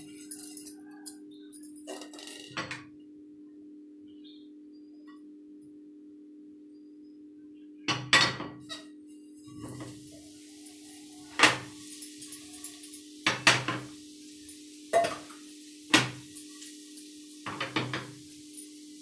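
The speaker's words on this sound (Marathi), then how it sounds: "बघा आता भाकरी थापटत आहे." Ragi bhakri flatbread dough being patted and set on a hot griddle, heard as a series of sharp, fairly close slaps and knocks, sparse at first then repeating at a steady rhythm over a constant low hum, with no talking.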